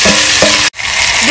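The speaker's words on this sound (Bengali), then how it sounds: "গোটা জিরে, দেবো ম্যারিনেশন করে রাখা কই মাছ," Marinated koi fish with whole cumin frying in hot oil, a loud close sizzle that briefly cuts out midway and then resumes.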